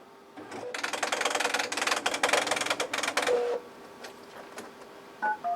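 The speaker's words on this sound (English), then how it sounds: "I can print it through the Braille embosser just the way it is" A Braille embosser prints a document: about three seconds of loud, rapid mechanical hammering that chatters in bursts, then faint whirring and a few short electronic beeps near the end.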